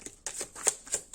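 Tarot cards being shuffled by hand in a few quick riffling bursts, soft papery flicks close by with no talking.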